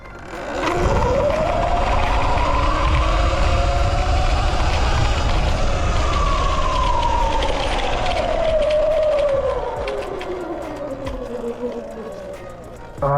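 A 79BIKE Falcon Pro electric dirt bike runs at full throttle. Its loud, continuous motor whine climbs and then falls in pitch over a steady rumble of wind and road noise, easing off near the end.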